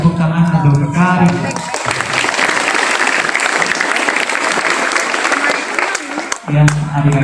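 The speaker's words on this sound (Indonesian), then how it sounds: "Jadi tepuk tangan untuk Kak." Audience applause at a Scout (Pramuka) training session swells from about 1.5 s and continues for several seconds, dense and steady, with voices speaking briefly before and after it.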